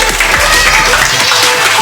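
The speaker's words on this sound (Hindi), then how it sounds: "अजवा के लिए तालियां" An audience at a game show in a Hyderabad shopping mall claps loudly and steadily for the winner, a dense, close burst of applause that carries throughout.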